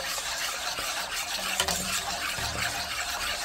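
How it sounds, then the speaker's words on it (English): Eggs are stirred quickly into warming milk for a white German chocolate cake. The stirring makes a steady, close, wet scraping and swishing that carries on without a break. "Now go on and add in the eggs before your liquid, your milk get hot. And you want to stir it in real fast."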